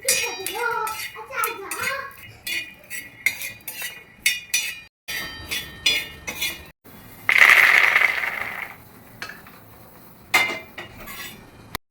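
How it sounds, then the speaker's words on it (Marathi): Peanuts roasting on a hot griddle are stirred and scraped, producing uneven bursts of metallic clatter and clinks close by, with a voice briefly heard near the start. "आता आधी आपण दाणे भाजून घेऊया."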